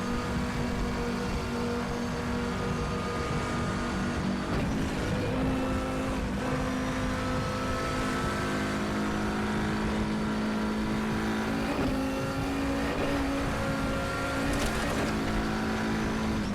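Audi TT RS VLN race car engine lapping the Nordschleife in RaceRoom, a loud steady drone that holds its pitch, then dips and climbs again with shifts and revving, no voices over it.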